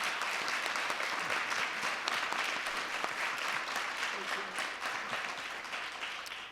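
An academic roundtable audience claps for its keynote speakers, a full, sustained round of applause from a roomful of people that tapers slightly toward the end.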